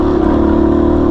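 KTM 250 EXC-F four-stroke dirt bike engine held high in the revs on a Colorado mountain trail, a loud continuous buzzing drone close by with no talk.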